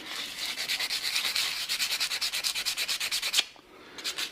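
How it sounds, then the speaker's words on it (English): Plastic GoPro helmet chin mount being sanded in quick, even back-and-forth rubbing strokes, close and loud, about twenty strokes in a steady rhythm before a pause and a couple more. "And we'll give it a bit of a sand."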